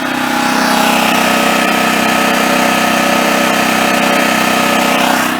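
A Generac XG8000E portable generator runs outdoors on fresh fuel, its engine holding a loud, steady, even drone from start to finish with no voices over it.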